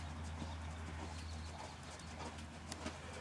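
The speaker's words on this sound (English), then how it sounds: "For me, that's pretty much the perfect canter." A horse canters during a riding lesson, with soft rhythmic hoofbeats heard faintly over a low steady hum.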